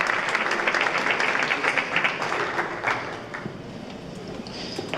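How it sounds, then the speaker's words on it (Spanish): Applause from a conference audience after a talk, loud and dense at first, then thinning and fading as the clapping tapers off. "Un aplauso."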